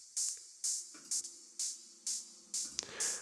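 A bright percussion loop with the low end cut around 300 Hz, thin high hits repeating at a steady rhythm and almost no low end, playing alone.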